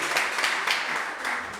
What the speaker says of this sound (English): Applaudissons pour Monsieur Nilus Kinuani